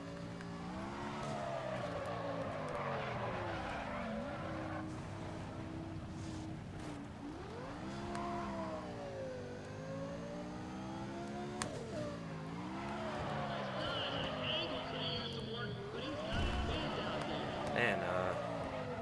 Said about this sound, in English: Need for Speeds have always been great for engine noises